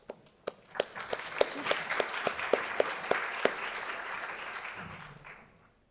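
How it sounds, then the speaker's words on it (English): An audience at an academic geography research session applauds to welcome a speaker, starting with a few loud separate claps that swell into steady applause and then fade out. "So welcome, Sa, with an applause"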